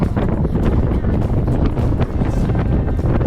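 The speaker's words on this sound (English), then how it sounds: "Sorry about the wind" Loud, gusty wind buffets the microphone continuously on a clifftop at the edge of the Nullarbor, Australia, with a storm approaching, producing low rumbling thumps that nearly drown out everything else.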